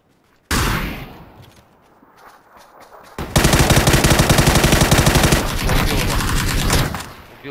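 Gunfire in PlayerUnknown's Battlegrounds: a loud sudden shot, a quieter stretch, then a sustained close burst of rapid automatic fire lasting several seconds before tapering off.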